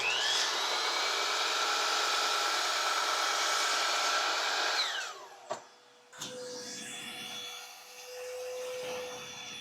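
A shop vacuum hooked to a miter saw for dust collection whines loudly and steadily for about five seconds, then powers down. Its pitch falls away, and a couple of sharp knocks and a quieter hum follow.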